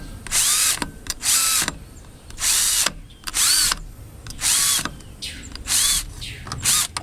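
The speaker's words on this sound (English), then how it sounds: "drill a dozen or so holes" A power drill bores holes into a textured plastic lid in about eight short high-pitched whirring bursts with brief pauses between, loud and close, no talk.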